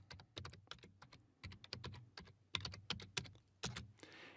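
Quick keystrokes on a computer keyboard while entering a PowerShell command, a close, quiet run of irregular clicks with a few louder taps, no voices.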